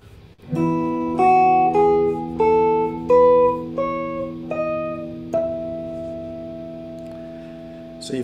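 A guitar in just intonation plays a sequence of harmonic-series notes on one string, about eight bright plucked tones in a steady stepping rhythm over a sustained low drone, ending on a long ringing chord.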